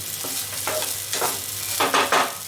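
A spoon stirs poha in a pan, making a few soft scraping sweeps over a faint steady sizzle, close up with no talking.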